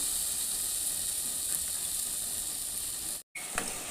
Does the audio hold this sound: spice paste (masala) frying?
yes